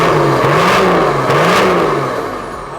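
A freshly swapped TD42 diesel engine in a GQ Patrol revs up loudly twice in quick succession, rising and falling in pitch, then settles and fades slightly toward the end.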